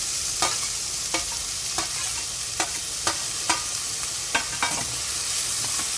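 Finely chopped garlic, three big cloves, sautés in a pan with a steady sizzle, punctuated by regular sharp clicks and taps of a utensil stirring against the pan.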